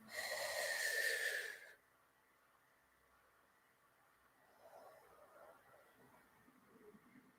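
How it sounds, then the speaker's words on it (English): A single deep breath drawn in through the nose, close and loud for under two seconds, followed by quiet room tone with faint low murmuring. "just take a nice deep breath to receive it more deeply in your cells"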